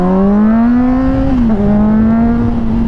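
A Chevrolet Corvette Z06 drives past with a steady, loud engine drone whose pitch climbs slowly, dips briefly midway, then holds, heard close over constant road and wind noise.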